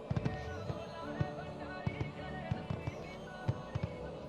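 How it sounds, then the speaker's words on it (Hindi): Fireworks bursting over a seaside temple at a Somnath festival celebration, a string of sharp thuds and cracks going off irregularly against a dense, steady crowd-and-sea roar. "जिसका नजारा शानदार आतिशबाजी के बीच दिखा।"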